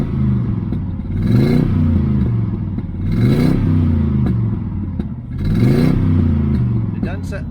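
1968 Chevelle Nomad engine revved three times in a row, each blip rising and falling in pitch over a rough idle, close and fairly loud, with a voice speaking faintly between revs.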